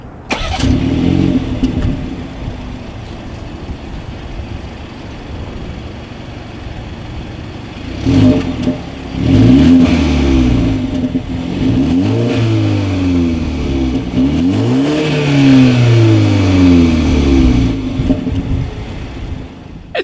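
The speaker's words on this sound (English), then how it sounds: "As always, here is that exhaust clip." A 2019 BMW 330i with dual chrome-tipped exhaust outlets starts up, then idles and revs repeatedly, each rise and fall of the engine note loud and close, with no talking.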